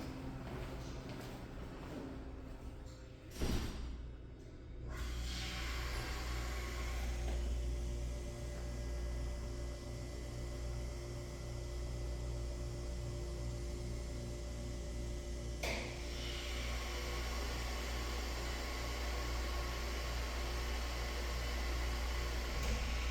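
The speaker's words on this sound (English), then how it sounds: "A relatively new elevator gets modernized, and post-modernization isn't running so great because it's low in oil." Steady hum and whir of a Mowrey hydraulic elevator, formerly ThyssenDover Impulse, running low on oil: a constant motor and pump drone with a faint thump early on and a soft shift partway through.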